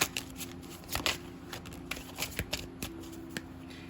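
A deck of oracle cards is shuffled close up in quick bursts of crisp riffling and slapping, with short pauses between the flurries in an otherwise quiet room.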